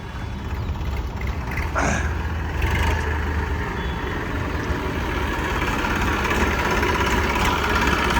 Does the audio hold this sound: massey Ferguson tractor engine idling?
yes